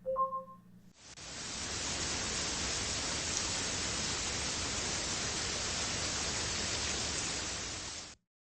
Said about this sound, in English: Simply just play sounds from a heavy rainstorm for 2 minutes to help you relax.